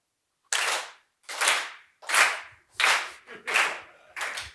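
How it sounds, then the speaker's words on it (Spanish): An audience claps together in unison, six loud, sharp group bursts in a steady rhythm with short silent gaps between them and no voices. "Aplaudid de forma sincronizada."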